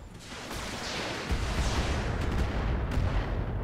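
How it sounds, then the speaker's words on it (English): Mech weapons firing in the video game Roguetech, a dense, continuous barrage of booming shots and blasts that grows heavier partway through, loud and close with no talk. "Gonna fire everything on the Valkyrie since it's the one that's damaged."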